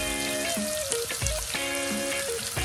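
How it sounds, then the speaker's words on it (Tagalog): Soy sauce sizzling in a hot pan while cooking drunken shrimp, a steady crackling fry with bubbling pops and faint tonal background music underneath. "tapos talagyan mo po siya ng soy sauce"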